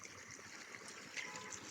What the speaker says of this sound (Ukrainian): Риби, з котрих лється вода на місці. Гарний фонтанчик такий.